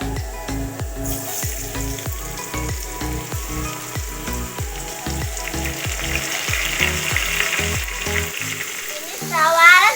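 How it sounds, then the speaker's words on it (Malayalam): Sliced onions frying and sizzling in hot oil for restaurant-style kadai chicken, a steady loud crackle over a rhythmic low thumping beat, with a brief stirring clatter near the end. "നേരത്തെ നമ്മൾ പൊരിച്ച എണ്ണയിലേക്ക് സവാള ഇടുക."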